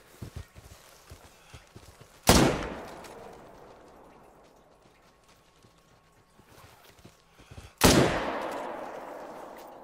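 Two loud rifle shots in a multiplayer hunting video game, spaced several seconds apart, each a sharp crack followed by a long rolling echo that fades over the next seconds.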